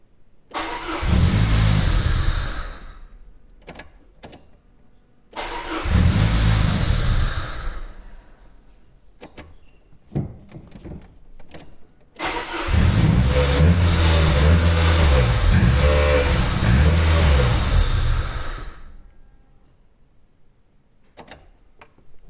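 Freshly rebuilt car engine cranking and starting in several loud bursts, revving hard and then stumbling, unable to hold a steady idle, with quiet gaps between attempts and no talking.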